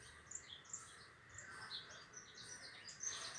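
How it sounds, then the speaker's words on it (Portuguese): Free wild birds in a backyard, among them a great kiskadee, give faint scattered chirps and short calls against a quiet background, with no talking. "Chegou o bem-te-vi."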